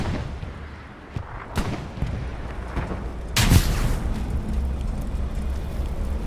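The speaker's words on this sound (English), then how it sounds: "AT gun on the radar dish is what I just heard" An anti-tank gun fires in Hell Let Loose, booming heavily at a distance amid scattered gunshots, with one loud, close blast near the middle and a rumbling battlefield tail.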